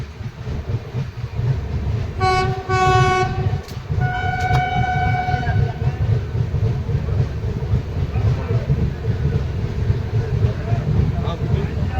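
A passenger train pulls into Sainthia junction with a steady low rumble of rolling carriages. Two sustained horn blasts sound early on, then a long even roll continues to the end.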